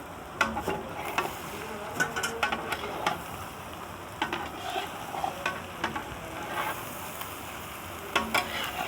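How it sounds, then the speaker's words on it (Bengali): Tomatoes stirred into a pan of frying egg curry, with a steady sizzle and irregular scraping and clinking of a spoon against the pan. "এরকমভাবে টমাগুলো দিবে, দিয়ে একটু ভালোভাবে নাড়াচাড়া করে নেবে।"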